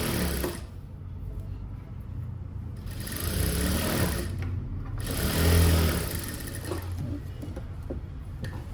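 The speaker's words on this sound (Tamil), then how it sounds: "கீழே ஃபோல்ட் பண்ணி ஸ்டிச் பண்ண போறோம்" A domestic sewing machine runs in steady bursts while stitching a double-folded hem on a puff sleeve, its motor whirring close and fairly loud, with brief pauses and changes in speed between runs.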